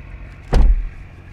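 A McLaren 620R door swings shut as it is pulled down by its strap and eased closed by soft close, one short, soft thud near the mic, otherwise quiet.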